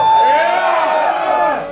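Crowd at a live metal show in Tokyo, a swelling wash of cheering and whoops over about two seconds, loud and close, with a voice talking through it.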